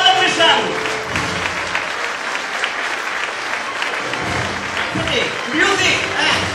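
An audience applauds to welcome a performer on stage at a school event, a full, continuous round of clapping with crowd noise and some voices mixed in.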